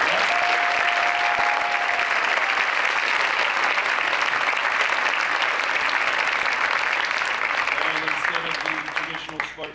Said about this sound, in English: give them a big round of applause and best of luck